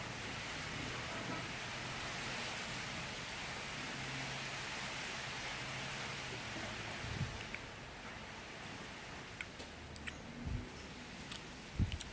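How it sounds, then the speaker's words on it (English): Steady soft hiss of rain falling in the background, faint and continuous, with a few light knocks and clicks toward the end. "there's a bit of rain in the background"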